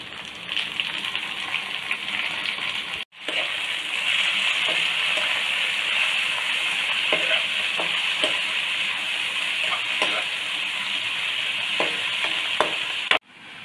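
Chopped tomatoes fry in a pan for paneer biryani, a continuous close sizzle broken by a brief cut early on and another near the end, with scattered scraping and stirring ticks through the middle.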